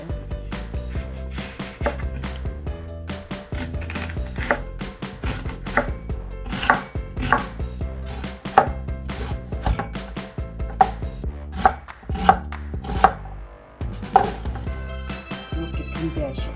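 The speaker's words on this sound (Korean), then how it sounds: "양파를 하나 더 썰어주세요" A knife chops an onion on a cutting board in quick, steady, close taps for a home-style braised potato dish, the rhythm continuing evenly with occasional sharper knocks.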